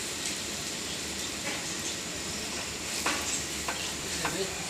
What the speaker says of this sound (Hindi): पराठा बन रहा है, पराठे पे घी लगाया जा रहा है।